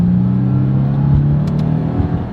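A Lexus IS250 car accelerates with a steady, loud engine drone and low rumble from inside the cabin, the pitch holding fairly even with no voices.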